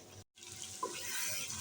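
Water is poured into a pan of tomato masala gravy as it cooks, a soft steady splashing trickle close by with a faint sizzle underneath.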